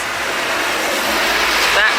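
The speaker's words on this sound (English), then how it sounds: "Back to the noisy cars and buses" Street traffic of cars and buses in Florence, a dense continuous roar of engines and tyres close by, with a brief higher whine near the end.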